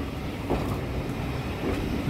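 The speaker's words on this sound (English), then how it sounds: "It's a maintenance train which is here." A diesel maintenance train on a heritage railway, the Worth Valley line, rumbles steadily nearby with a continuous low engine and rail drone and faint wheel clatter, no voices.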